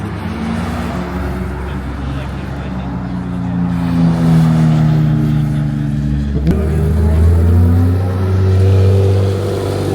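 A Porsche engine revs and surges in a loud, sustained drone that climbs and falls over several seconds, with a sharp shift midway and voices talking over it.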